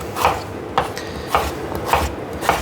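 Knife slicing unpeeled potatoes into chips for fish and chips, five crisp, evenly spaced cuts through the flesh onto a board, close and fairly loud with no talking.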